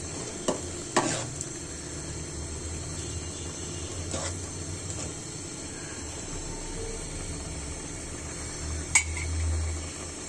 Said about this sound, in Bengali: নাড়াচাড়া করে দিব মশলাটা